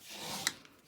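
Brief, close rubbing stroke as a folded Whisper White thick card base is burnished, a soft rasping swipe lasting under a second.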